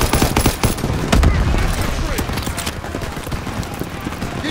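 Dense rapid gunfire and machine-gun bursts from a World War II battlefield in Call of Duty WWII, loud and continuous with overlapping shots throughout.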